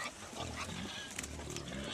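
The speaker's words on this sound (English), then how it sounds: "He's going to feed his pigs some of this milk fat." Pigs grunting and squealing as they are fed milk fat on a farm, a dense, continuous chorus of oinks and snorts close by with a steady rumble underneath.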